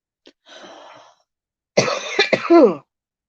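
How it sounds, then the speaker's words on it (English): A person with asthma coughs: a faint rasping exhale, then a loud close burst of several harsh coughs ending in a wheezy throat-clearing, with silence between. "I start coughing when it does that"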